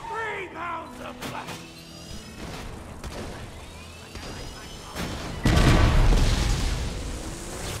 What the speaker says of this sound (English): Oh god, they exploded.